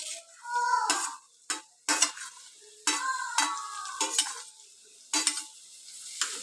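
Chopped tomato and onions are stirred in a pan, giving close, uneven bursts of scraping and frying hiss separated by short quiet gaps.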